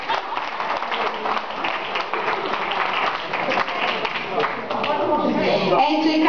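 A restaurant crowd breaks into dense, sustained applause that swells and holds for several seconds, with voices and cheers mixed in.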